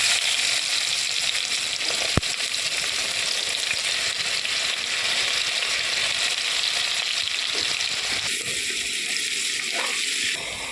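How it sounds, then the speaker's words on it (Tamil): Onion sizzles and crackles in hot oil in a kadai, a steady close frying hiss with one sharp click partway through. "அடுத்து எடுத்து வச்சுருக்கிற வெங்காயம் தாளிக்கிறதுக்கு போட்டுக்கலாம்."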